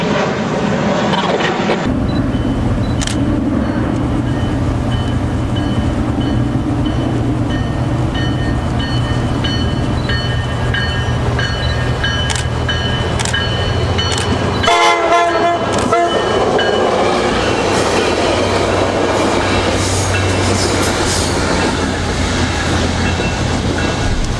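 A train rumbles past close by at a South Florida crossing with a steady heavy roar, and a horn sounds in short blasts partway through, the noise continuing loud throughout.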